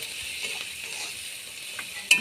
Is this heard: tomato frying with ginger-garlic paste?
yes